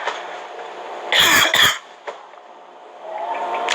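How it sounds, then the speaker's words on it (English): A person coughs twice in quick succession, loud and close, the two harsh bursts following each other within half a second, with indoor background noise before and after. "I had a horrible cough."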